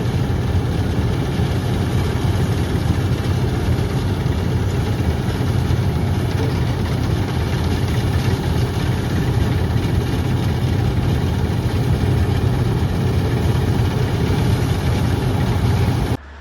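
A tractor engine runs at a steady idle, a loud, close, continuous low diesel rumble with a faint vibrating rattle and no talking.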